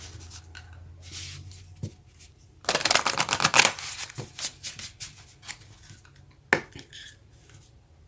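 Moonology oracle cards being handled and shuffled up close: papery riffling and rubbing that swells into a dense burst of flicking, then trails off into scattered taps and slides.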